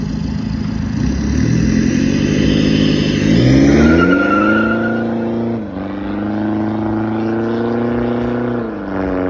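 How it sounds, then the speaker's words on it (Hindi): Straight-piped, remapped Mahindra XUV500 diesel SUV with a loud, deep exhaust drone that climbs steadily in pitch as the engine revs up, eases back, then rises again, running continuously up close with no talking. "हमने जो है बिल्कुल ही स्ट्रेट पाइप करा दिया था इस गाड़ी को, और इतनी खतरनाक आवाज़"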